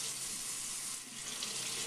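A bathroom tap runs steadily as hair is about to be rinsed under it, a continuous close broadband hiss of flowing water with no talking.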